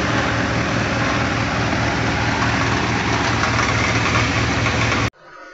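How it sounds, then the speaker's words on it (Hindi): Loud, steady diesel tractor engine chugging with a rhythmic low thump during rice harvesting, running continuously before cutting off abruptly near the end. "आज मॉर्निंग से ही यहाँ ट्रैक्टर चल रहा है"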